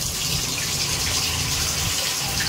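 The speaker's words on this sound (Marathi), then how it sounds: "ते पाणी टाकतो आतमध्ये" Water rushes and sizzles steadily as it is poured into a hot pan with hot oil, a continuous loud hiss with no talking.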